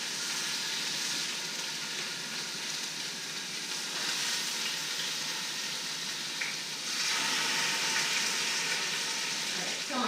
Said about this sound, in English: I'm going to sear all sides of the beef roast for about 2 minutes each side